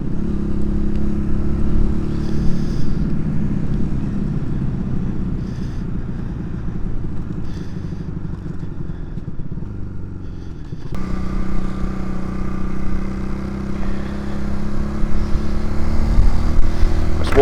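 A Honda CD200 motorcycle engine drones steadily while riding at speed, a loud close rumble with wind noise that lifts slightly as the engine is wound up near the end.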